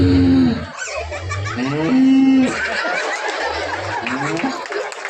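A man in front of a festival crowd imitates a cow mooing in drawn-out lowing calls, loud and close, with short pauses between them, during a Thai Pongal street celebration in Tamil Nadu.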